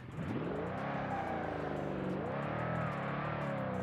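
Twin turbo Mustang drag car, a former detective's car, in the BeamNG Drive driving game, its engine revving up loudly and close, dipping briefly and climbing again.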